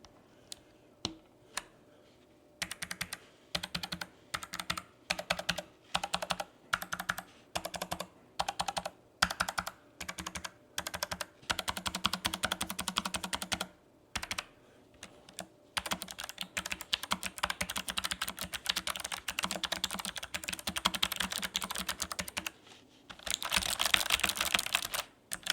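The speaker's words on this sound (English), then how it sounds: "And that is the clicky blue switches" Bursts of fast, crisp clicking from a Logitech low-profile mechanical keyboard with clicky blue switches, the keystrokes close and regular with brief pauses between runs.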